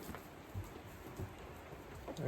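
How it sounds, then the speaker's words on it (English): Steady rain falls outside on a rainy day at a baby goat farm, heard from indoors as a continuous soft hiss with faint patters and no talking. "it's raining"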